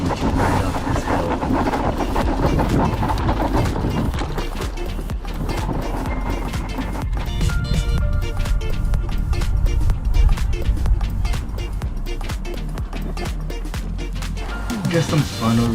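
A Qiewa Q-Power 2 dual-motor electric scooter climbs a hill outdoors, with a continuous rushing roll of wheels and wind, scattered clunks and rattles, and a voice talking over it.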